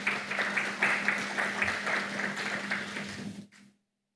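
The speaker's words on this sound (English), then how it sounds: "Please give the Prime Minister a round of applause." Audience applause for the Prime Minister at a national dialogue event on indoor air quality in St. Kitts and Nevis, steady clapping from a room full of people that cuts off abruptly near the end.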